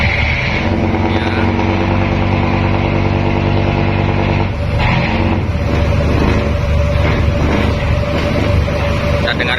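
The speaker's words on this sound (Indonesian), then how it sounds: "Kita dengarkan dulu mesinnya" A ship's engine runs loud and close while the vessel docks, a steady low throbbing drone with harmonic hum that shifts character midway, continuing without speech.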